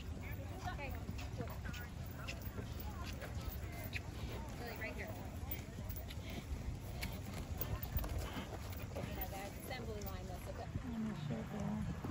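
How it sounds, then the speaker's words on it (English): Horses walking with steady hoof clip-clops amid a busy horse show arena, crowd chatter and an announcer's voice over the top throughout. "Ask your horse to walk."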